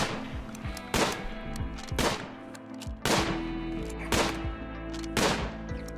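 A Rimworld colonist fires at a squirrel in the video game: roughly five or six sharp gunshots ring out about a second apart over a steady low hum, with fainter clicks in between.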